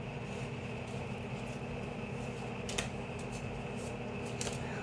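A workshop ventilation fan runs steadily throughout, a loud constant whooshing drone with a faint tonal hum, broken by a few brief clicks and rattles.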